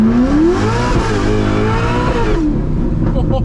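A car engine revs hard and accelerates during hooning, pitch climbing steeply then holding a loud, strained roar before backing off near the end, close and dominant throughout.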